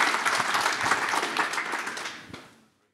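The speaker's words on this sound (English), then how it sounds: "round of applause" Round of applause from a forum audience after panel presentations, dense clapping that carries on steadily for about two seconds, then thins and fades out.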